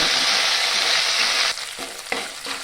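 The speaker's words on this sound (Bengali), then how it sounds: "আদাটাকে ভালো করে আমি ভেজে নেব" Ginger paste sizzles loudly in a hot pan, a dense steady frying hiss that drops back halfway through as the paste is stirred, with brief scraping stir strokes following.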